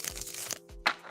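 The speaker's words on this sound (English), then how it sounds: "You realize you like the sound of shuffling cards?" Tarot cards shuffled during a live reading, giving soft papery riffles and rustles in short bursts with a sharper crisp flutter near the end, close and fairly quiet.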